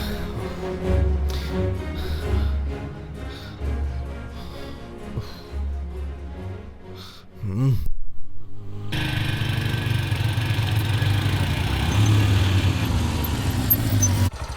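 A motorbike engine idles and revs at mid pitch, then cuts out abruptly to near silence, followed by a busier background of rumble and ambient noise.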